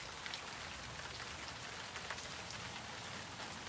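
Steady rain falls outside on a wet morning, a dense, even hiss of drops hitting surfaces that holds constant throughout without any voices.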